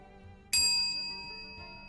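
A small bell struck once during a live stream, a bright ringing ding that starts sharply and decays slowly over about a second, clear and alone.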